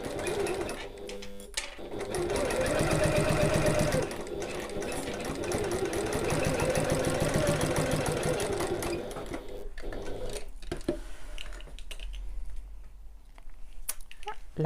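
A sewing machine back stitches, then runs on along a seam of a bag exterior, whirring loud and steady for about ten seconds before stopping. Quieter handling sounds follow.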